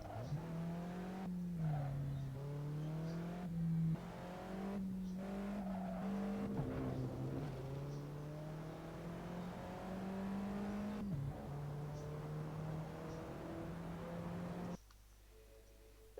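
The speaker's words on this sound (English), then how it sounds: "I'm just drifting around corners" Car drifting around corners in the Assetto Corsa video game, a steady engine drone rising and falling with revs, shifts and tire squeal, ending abruptly in quieter hiss.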